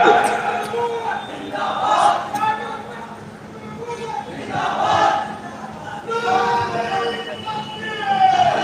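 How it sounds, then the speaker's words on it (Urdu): An audience at a religious conference in Kanpur chants slogans in loud, rhythmic waves of massed voices, swelling and fading in repeated bursts. "نعرے بازی فوراً بند کرتے"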